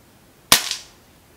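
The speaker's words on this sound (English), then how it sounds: "I'm going to test the Crosman Premier hollow point over the chronograph." Crosman Backpacker air rifle pumped ten times firing a .22 Crosman Premier hollow point pellet: one sharp, close crack with a short decaying tail, set against near silence.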